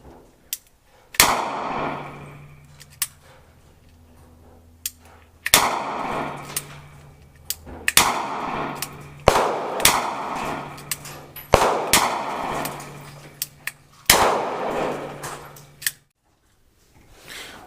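A Ruger Redhawk revolver fires Blazer 230 grain 45 ACP rounds loaded in clips, six sharp, loud gunshots spaced a couple of seconds apart, each ringing out with a short decay, plus lighter metallic clicks between shots on an outdoor range.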